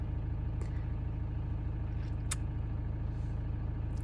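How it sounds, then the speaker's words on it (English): A steady low engine idle rumbles continuously, fairly quiet, with a few faint clicks and rustles on top. "That is the sound of my new van."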